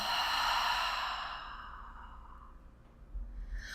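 A long, deep exhale during a guided breathing exercise, a close, airy rush of breath that fades out gradually over a few seconds before a faint new breath begins.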